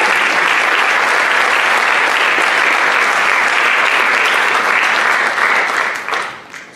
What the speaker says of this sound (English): a round of applause to all three of those choir.